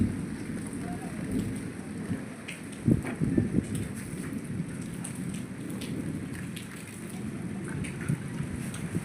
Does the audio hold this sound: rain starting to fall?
yes